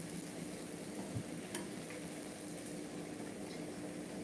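Mushrooms and meat frying on a hot plate, giving a continuous even sizzle with a couple of faint ticks, low and steady throughout, no voices.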